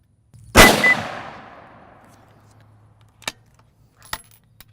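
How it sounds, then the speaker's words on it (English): One loud, close rifle shot fired downrange at a target on a range, with a sharp crack and a decaying ring, followed by two faint, brief clicks. "let's go ahead and get a few shots downrange"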